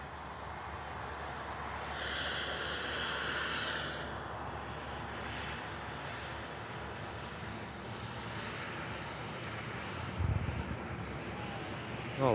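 Lufthansa and Ryanair airliners taxi across Manchester Airport, a steady distant jet engine drone with wind noise, a brief higher engine whine swelling early on, and a faint clunk near the end.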